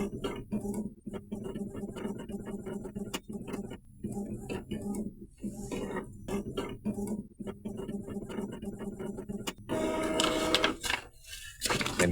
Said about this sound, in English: let's print another nozzle check pattern